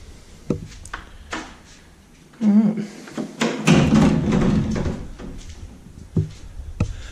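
A huge, old wooden front door of an abandoned plantation house in the tropics of Australia creaks open among scattered knocks and clunks, with a person talking nearby.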